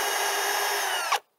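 A small power drill bit whines steadily into a wooden bluebird house front board, a bright, sustained buzz that cuts off abruptly after about a second.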